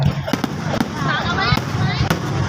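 Fireworks bursting at a fireworks competition at Wat Khao Din Tai temple in Nakhon Sawan, Thailand: several sharp, loud bangs go off at irregular intervals under continuous talking.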